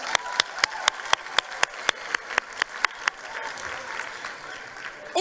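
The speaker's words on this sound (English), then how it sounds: "Another round of applause for KwaZulu-Natal." An audience at a 2023 matric results announcement claps in sharp, evenly spaced bursts that give way to a softer spread of applause, moderately distant in a large hall.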